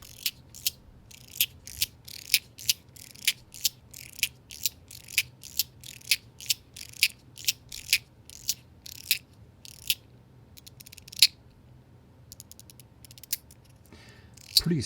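A Leap Cyber Illusion buckyball fidget slider from ProxyEDC clicking back and forth, crisp evenly spaced close clicks in a steady rhythm with a brief pause and a final pop, quiet and alone.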